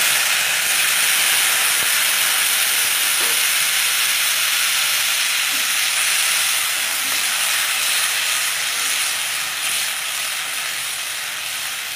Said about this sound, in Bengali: এবার দিয়ে দিচ্ছি এই সেদ্ধ করা আলু।